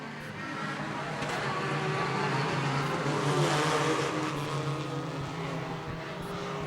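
Race cars roar off the start of a heat at Sweatt's Concrete Thunder, a concrete oval, a loud sustained blend of engines heard from trackside with a continuous broad rumble and no clear gaps.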